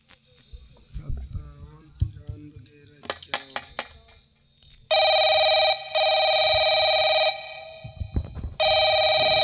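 After soft handling noises and quiet voices, a phone rings back after a mobile number is dialed, loud repeated ringing bursts with short pauses between them, close and clear.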